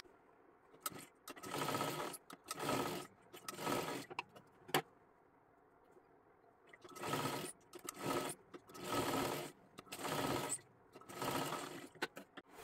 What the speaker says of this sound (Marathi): एक लाईनीमध्ये सरळ शिलाई मारून घ्यायची आहे